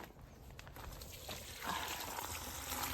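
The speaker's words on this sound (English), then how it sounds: "Fill it with water." Water trickling and then pouring more strongly into a bucket, a quiet splashing rush that grows louder halfway through, with no talking.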